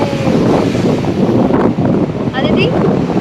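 Strong sea wind buffeting the microphone at Worli Promenade in Mumbai, a loud, continuous roaring rumble with surf underneath, while a voice talks briefly in the background.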